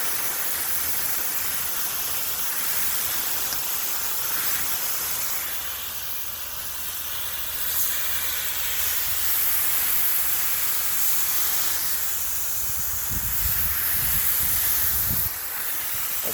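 A steady hiss of water spraying from a hose onto a pool filter cartridge, continuous and close, with some low rumbling thumps near the end.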